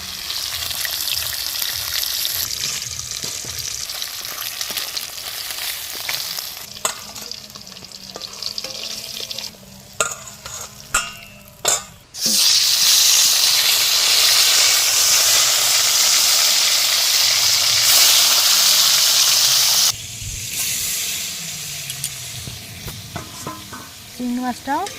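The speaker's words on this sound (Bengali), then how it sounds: "দেখো মা এখানে বসে মাছগুলো ভেজে নিচ্ছে।" Fish fry in a pan of oil in a home kitchen with a loud, continuous sizzle. It swells into a dense, bright hiss partway through, with occasional clinks and stirring noises.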